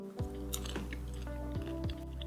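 Popcorn with peppermint and tiny pretzels being chewed up close, a few soft crunchy bites and wet chewing sounds over a low steady hum, with no talking.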